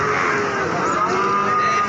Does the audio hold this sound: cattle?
yes